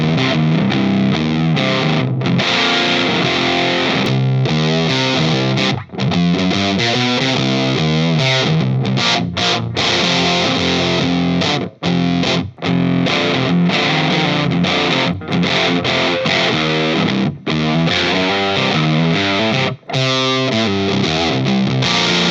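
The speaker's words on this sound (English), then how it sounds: "we're going to be using different pedals, and we're going to start with the Empress Effects Fuzz" An electric guitar plays through an Empress Effects Fuzz pedal into a Gibson GA-15RVT amplifier, giving a thick, loud, continuous fuzzy tone with chords and notes ringing almost without break and a few brief gaps between phrases.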